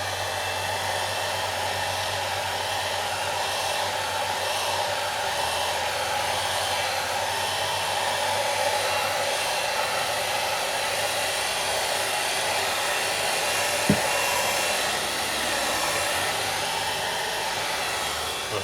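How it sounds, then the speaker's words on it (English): A hair dryer drying acrylic paint blows with a steady, continuous whoosh and motor hum, close by, with one brief click partway through. "just to help it along a bit you can use a hairdryer"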